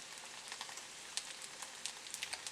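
Kimchi pancake cooking in a pan over medium heat, giving a steady soft sizzle with scattered light pops and crackles throughout, fairly faint and heard alone.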